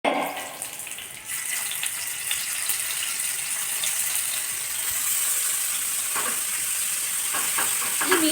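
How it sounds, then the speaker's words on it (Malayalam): Fish fries in a hot pan with a loud, continuous sizzling hiss, and short bursts of spattering oil break through near the end; no one speaks. "ഈ മീൻ വറുക്കുമ്പോഴും ഈ പറഞ്ഞ പോലെ നമ്മൾ കറി വറുത്തിടുമ്പോൾ ഷീന്നൊരു സൗണ്ട് ഉണ്ടല്ലോ"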